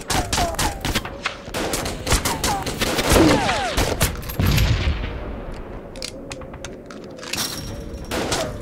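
Heavy gunfire in a video game skirmish battle, dense bursts of shots crackling close and loud throughout, with a shouted voice briefly breaking in over the firefight.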